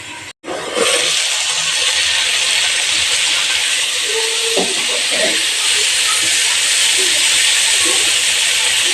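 Cluster beans and tomato cook in a pan under a closed lid, giving a loud, steady steamy hiss after a sharp click at the start. Faint bubbling sits underneath.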